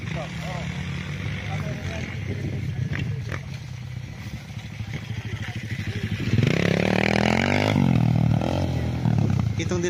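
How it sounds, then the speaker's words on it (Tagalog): Large motocross motorcycles revving near farmland in Nagcarlan, Laguna, a rising engine roar swelling loud in the second half over a lower rumble, with someone talking earlier in the clip. "Yung nagmumotor na malaking motor."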